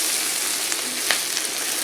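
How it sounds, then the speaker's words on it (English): Peppers and onions fry in a little oil in a hot iron skillet, a steady close sizzle with a few brief crackles and pops rising over it. "I got peppers and onions cooking in a hot iron skillet with a"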